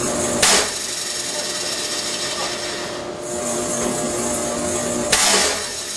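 A bandsaw with a 1-inch-wide resaw blade cuts through walnut, giving a continuous close rasping and grinding with two sharp bursts, one near the start and one near the end.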